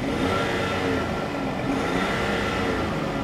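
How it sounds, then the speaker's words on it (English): A diesel car engine revving hard in place before a drag race against a new V8 Mustang and BMW M2, a steady, loud rumbling roar held throughout with no clear pauses. "I'm just going to rev up your diesel."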